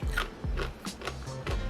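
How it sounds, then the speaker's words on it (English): Biting into a crunchy, freshly roasted, still-hot chickpea produces a handful of close, quiet crunches in an uneven rhythm, with no talking. "Let's take one and see if it crunches."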